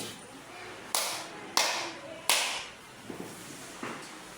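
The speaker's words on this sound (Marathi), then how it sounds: "3 टाळ्या वाजल्या" Three sharp hand claps ring out in a classroom game, evenly spaced about two-thirds of a second apart, followed by a few faint taps against a quiet room with soft voices.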